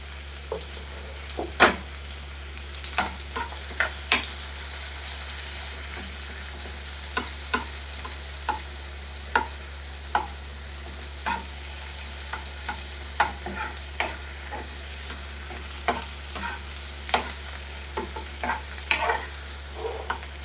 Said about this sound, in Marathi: आपला एक जो आपण कांदा चिरलेला व मीडियम साईजचा, तो आपण यामध्ये टाकायचा. कांद्याला पण याला आपण चांगलं होऊ द्यायचं आहे